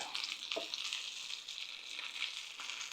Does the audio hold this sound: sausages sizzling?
yes